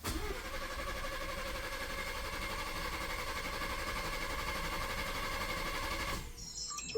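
A 2024 Ford Bronco engine primes right after an oil change, giving a steady, even mechanical run for about six seconds before it cuts off abruptly.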